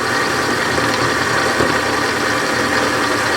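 A small Warco lathe runs steadily while milling under heavy load, giving a continuous close mechanical hum and whine with a faint rattle and no pauses.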